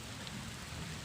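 Light drizzle falling on Gunung Gumitir, a mountain, making a steady soft hiss of rain that runs the whole time with no voices over it.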